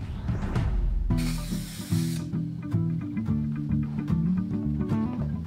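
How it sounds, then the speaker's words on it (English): An adhesive spray can hisses in one short, sharp burst over a steady background hum, followed by light handling clicks nearby. "I'm gonna hit this with a little bit of spray, and then I'm going to stick this down."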